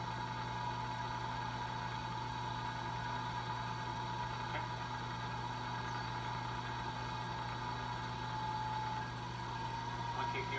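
A milling machine runs steadily while cutting a sample part, giving a continuous droning hum with a constant tonal whine and no pauses across the stretch.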